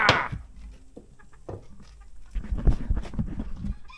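Chickens cluck and squawk at close range in an enclosed room, with irregular calls mixed with scuffling and knocking noises.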